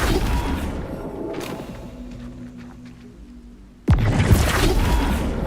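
A Flipendo spell cast in a witch simulator game lands as a sudden loud impact burst with a sharp boom and crackling tail, following a stretch of quieter low rumbling ambience.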